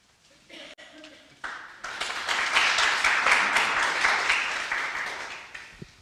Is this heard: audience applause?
yes